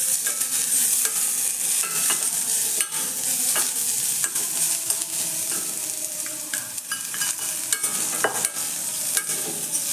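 Amla and spice powder stirred in a hot pan after the stove is switched off, a continuous run of scraping and tapping strokes over a low sizzle, close and fairly loud with no talking.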